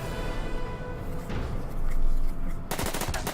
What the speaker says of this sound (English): Foxhole fires back, no effect.